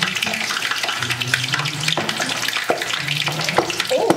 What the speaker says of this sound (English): This is why I don't be frying on the stove.